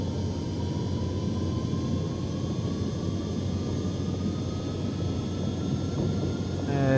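Citation Jet 525 business jet in X-Plane 12 rolling down the runway for takeoff: a steady, loud engine roar with a rising whine, continuous and close throughout, no talk.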